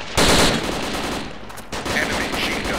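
Enemy machine gun fire in the ARMA 2 video game, a loud sustained burst of rapid shots with a fresh volley near the end, dense and close.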